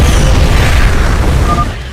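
A Purifier ship's weapon fires in a StarCraft II cutscene, a loud, sustained rumbling explosion that fills the whole moment and slowly fades toward the end.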